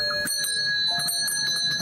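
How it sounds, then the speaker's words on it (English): Bell ringing in the video game Contradiction: Spot The Liar, several bright metallic strikes with sustained ringing tones over a steady background hum, fairly close and clear. "Let's ring the bell."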